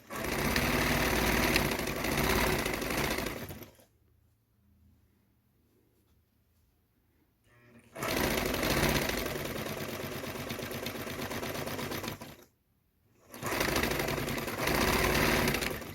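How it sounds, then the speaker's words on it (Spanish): A sewing machine stitches reused denim jeans in steady, loud mechanical runs, stopping for a pause of several seconds, then running again, with a brief stop before a final burst. "Entonces vamos a coser aquí."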